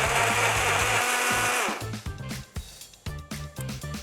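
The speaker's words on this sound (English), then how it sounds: "So let's get started with blending." An electric blender whirs loudly and steadily as it blends a drink, then the motor stops and gives way to a run of lighter clunks and short bursts of handling noise.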